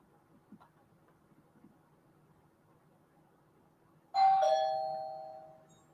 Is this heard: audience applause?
no